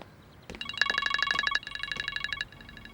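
A telephone bell rings in bursts of rapid repeated trilling, with a short gap between rings, loud and close in an indoor scene.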